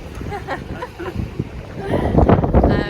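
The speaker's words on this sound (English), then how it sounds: "the wind has picked up now" Wind gusts buffet the microphone at a riverside camp in the Richtersveld, a low rumbling roar that swells and grows louder in the second half, with people talking earlier.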